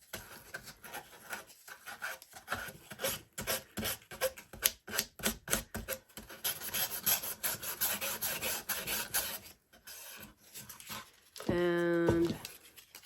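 Fine 1000-grit wet-dry sandpaper rubbing over the steps and railing of a small craft model, a steady close rasping scratch in quick strokes that runs for several seconds before a brief pause, with a short burst of speech near the end.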